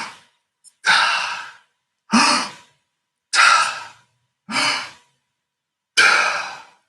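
Group breathing exercise before an apnea walk, with six forceful breaths in and out, each a loud airy rush about half a second long separated by short silences, close and unaccompanied by talk.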